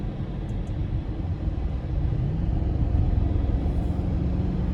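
Low engine rumble from a 2022 Audi RS Q8 on the move, a steady deep drone with road noise that swells slightly midway, heard from inside the cabin.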